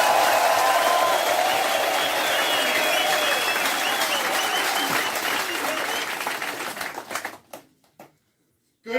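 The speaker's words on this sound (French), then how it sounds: "Applaudissez pour vous-même." A crowd at a political rally in the Democratic Republic of Congo applauds loudly, with dense sustained clapping and some cheering that fades out over the last couple of seconds into near silence.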